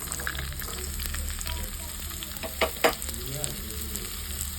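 Garlic sizzles in a pan with roasted urad dal for a chutney, giving a steady mid-level crackle. A couple of sharper stirring clatters sound near the middle.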